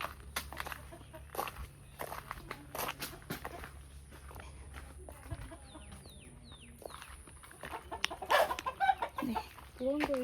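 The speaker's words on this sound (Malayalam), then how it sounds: "പൂവൻ കോഴീസ്." Roosters in a village yard give scattered clucks and short calls, mid-distance, among footsteps, knocks and rustling, with people talking quietly nearby.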